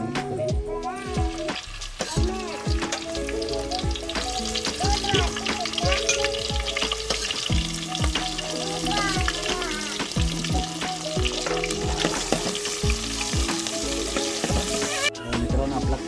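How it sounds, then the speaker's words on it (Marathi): Onion frying in a pan for a fish curry sizzles steadily and crackles under a spoon that scrapes and clatters, close and continuous, with music playing underneath. "आपला कांदा फ्राय झालेला आहे"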